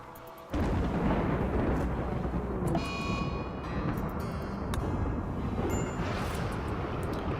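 Thunder rumbles through a RimWorld thunderstorm, a loud sustained low roar that swells in after a quiet start and rolls on steadily, with a few faint game tones over it.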